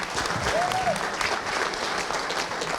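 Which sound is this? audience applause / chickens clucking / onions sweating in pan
audience applause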